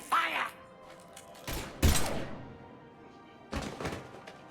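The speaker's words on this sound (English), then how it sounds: "Now open fire!" Gunfire from the Mass Effect 3 remaster erupts in a few separate heavy bursts, thudding, cracking volleys close and loud, with a short voice at the start and quieter gaps between the shots.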